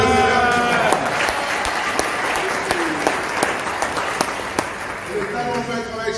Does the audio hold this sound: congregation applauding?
yes